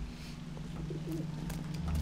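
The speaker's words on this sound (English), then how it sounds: "Goodness, those are gross looking pigeons." Pigeons in the video game Observer coo softly and intermittently over a low steady hum, faint and close.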